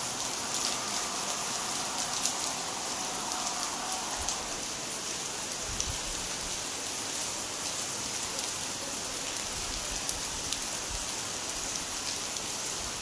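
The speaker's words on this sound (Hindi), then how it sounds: "बहुत ही सुंदर बारिश हो रही है। सुबह से बारिश हो रही है हमारे यहाँ पर।" Heavy rain pours steadily on a village, a dense, continuous hiss of drops striking surfaces throughout, with a few louder nearby drips and no voices.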